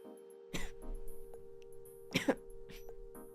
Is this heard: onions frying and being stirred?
no